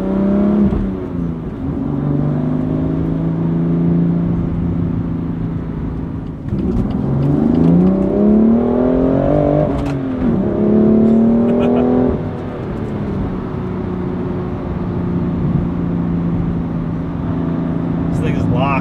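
A sports car engine revs hard with automatic rev matching on downshifts, rising and falling in pitch with sharp blips and a strong engine drone, under steady talk from the driver.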